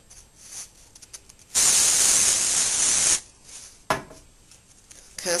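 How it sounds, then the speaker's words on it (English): A steady, loud hiss of hairspray from an aerosol can lasting about a second and a half, with quiet rustling before and after. "Constantly working with my spray."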